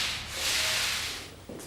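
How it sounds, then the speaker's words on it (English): Sanding machine working on a solid timber floor, a steady close rasping whoosh that swells and fades, with a brief thud near the end. "Sanding and polishing is definitely a job for the experts."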